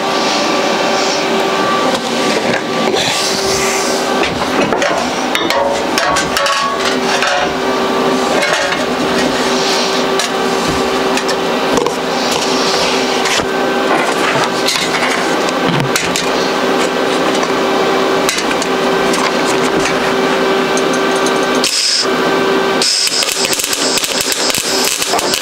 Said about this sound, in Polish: Słyszycie takie tyt, tyt, tyt, tyt, tyt, tyt, tyt? To jest źle podawany drut.